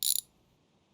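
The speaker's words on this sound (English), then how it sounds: "Let's put on our wrench and get this leaf spring off." A ratchet wrench working on junkyard car parts, removing a leaf spring, gives one brief, close ratcheting burst that cuts off quickly into near silence.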